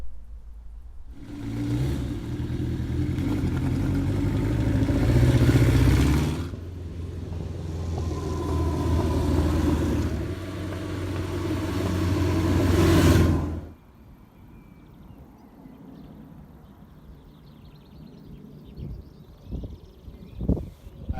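A Kawasaki GT750 motorcycle rides past, its engine note loud and rising in two long revving passes, then cutting off abruptly to quiet outdoor background with faint knocks.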